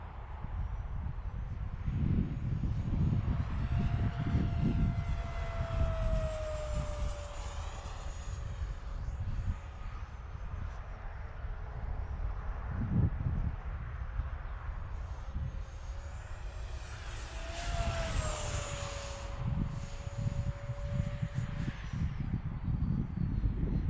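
An electric ducted fan model jet plane making full speed passes, a whining turbine-like rising and falling pitch as it sweeps by twice, with steady wind rumble throughout.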